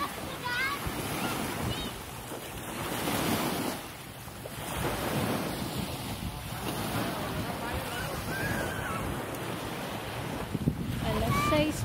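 Sea waves wash onto a beach in the early morning, a broad surging roar that swells and eases, mixed with gusty wind buffeting the microphone and faint voices.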